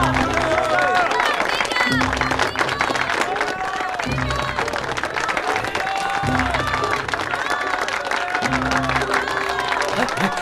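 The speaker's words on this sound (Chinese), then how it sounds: "下面我们请大家以热烈的掌声来欢送郑世文" Warm applause from an audience seeing off a speaker, Mr. Zheng Shiwen, dense steady clapping running throughout at moderate level with crowd murmur and a beat-like pulse beneath.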